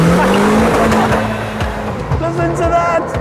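Renault Clio special edition driven hard on a track, its engine revving loudly through gear changes as the tires squeal during cornering, with a person speaking over the car noise.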